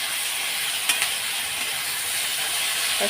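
Potatoes with slit green chillies fry in a pan, giving a constant, even hiss with a couple of faint clicks, nearby and without talk.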